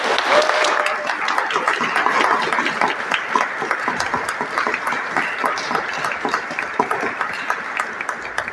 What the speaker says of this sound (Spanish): Un aplauso por su trabajo.